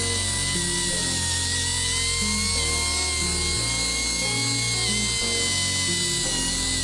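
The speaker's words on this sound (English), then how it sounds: "I light sand it, and what I use is this sand pad" A power sand pad smooths scars and scratches from a Nissan CVT pulley, a steady high-pitched whirring grind that runs continuously and loud throughout with small shifts in tone.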